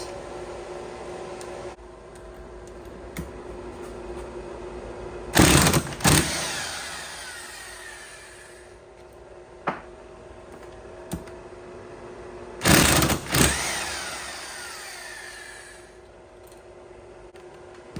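An impact wrench with an E10 adapter removes rocker bolts from an old Sea-Doo Rotax cylinder head in two short loud bursts of rattling hammering, separated by quiet workshop hum and small clicks.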